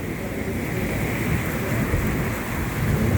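Steady, loud rain pours down in a heavy unseasonal thunderstorm over Vadod village near Jasdan, with low rumbling thunder woven through the continuous wash of water, no voices.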